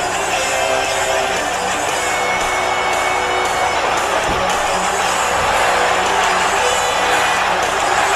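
Capacity arena crowd in the WWE 2K18 wrestling video game roars and cheers continuously, a dense wall of shouts and whoops holding steady throughout, with some broadcast commentary underneath.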